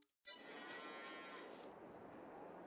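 Cows in Farming Simulator 22 on the Saxthorpe Farms map give a loud, drawn-out moo right after a brief gap, the single low call sustaining for over two seconds with no talk.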